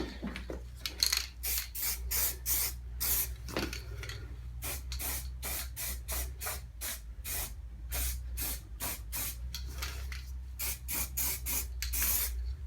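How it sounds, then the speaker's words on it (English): Spray can primer applied to bare metal on a Classic Mini body during restoration, in quick repeated hissing bursts of uneven length over a low steady hum, close and clear, no voices. "Put a bit of extra primer on that."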